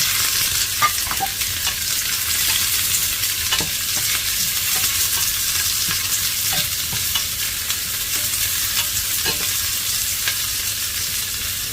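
Steady, close sizzling of garlic frying in a hot pan, with occasional faint clinks and stirring, no talk.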